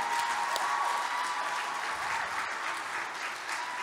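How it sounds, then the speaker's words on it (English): Live studio audience at the Dis-Chem Brain of 702 quiz show, Eastgate Mall, applauds the contestants with steady, dense clapping that holds at a loud, even level throughout. "Let's just give them a really big round of applause."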